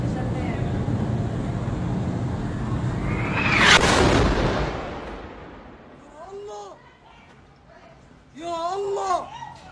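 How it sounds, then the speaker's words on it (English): In Gaza, a falling bomb's rush builds into a loud explosion that peaks mid-clip and rumbles away, followed by voices speaking over the fading aftermath. "please listen to that distinctive sound the bomb makes prior to impact and the performance of the bomb after the impact"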